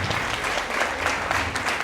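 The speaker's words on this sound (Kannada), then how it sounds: "ಇವರಿಗೆ ಒಂದು ಜೋರಾಗಿ ಒಂದು ಚಪ್ಪಾಳೆ ತಪ್ಪಬೇಕಾಗಿ ನಾನು ವಿನಂತಿ ಮಾಡ್ಕೊಳ್ತೀನಿ" Loud, sustained applause from an audience at a school old students' association gathering, dense clapping filling the whole moment without a break.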